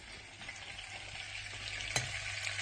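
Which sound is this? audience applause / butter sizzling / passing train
butter sizzling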